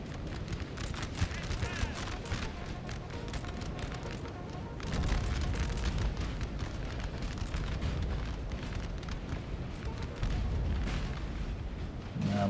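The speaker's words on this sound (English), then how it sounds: "My artillery is not doing too much right now, which is a bit unfortunate" Cannon artillery fire on a Napoleon: Total War battlefield, deep rumbling booms rolling continuously under battle din, distant and layered across the scene, with some talk mixed in.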